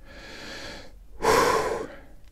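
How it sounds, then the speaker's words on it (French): Heavy, labored breathing from a man out of breath after running about 40 meters during a sniper game session. There are two close breaths, a softer one followed by a louder, rougher gasp. "J'ai plus de souffle, j'ai couru."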